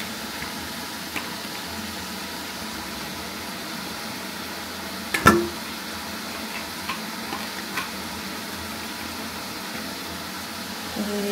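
Ginger tossed into a hot pan with chili powder and cumin fries with a steady close sizzle while being stirred, one sharp utensil clank cutting through midway.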